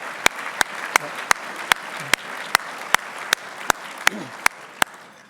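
An audience at a Sea-Air-Space breakfast applauds sponsor Saildrone, a steady wash of clapping with sharp, evenly spaced claps standing out, at moderate level throughout.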